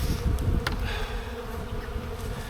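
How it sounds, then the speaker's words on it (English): Honey bees swarming thickly at a hive during an inspection, a dense steady buzz close by with a few brief louder passes of individual bees. "There's a ton of bees up here."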